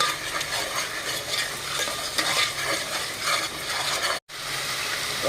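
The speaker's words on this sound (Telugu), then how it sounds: "పచ్చి వాసన పోయేంత వరకు వేయించుకుందాం" Stir-frying in a pan in a home kitchen, loud and close, with a constant sizzle and steady scraping of a spoon against the pan, broken by a brief dropout near the end.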